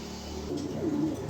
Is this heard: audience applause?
no